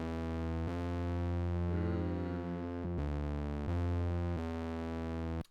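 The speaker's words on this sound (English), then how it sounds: "Cool, then we added a bass." A deep synth bass from a beat made in FL Studio holds long, smooth tones that change pitch every second or so, with a brief wobbling glide in the middle, playing alone and steadily.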